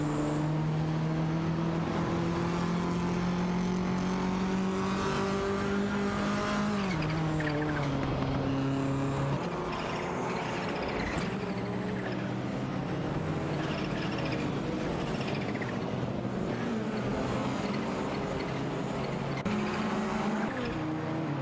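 Race cars in a racing video game, Porsche 968 Turbo RS and Toyota Celica among the field, roar continuously with engines revving, pitches sweeping up and down through gear shifts and overlapping cars, loud and sustained throughout.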